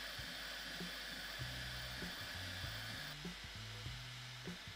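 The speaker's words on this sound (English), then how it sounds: "there is a lot of noise coming from fans" Cooling fans of a Bambu Lab X1C 3D printer running mid-print, a constant airy whoosh throughout, with faint stepping motor tones shifting pitch underneath.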